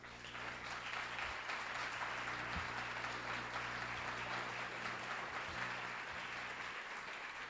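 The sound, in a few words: audience applause at a public meeting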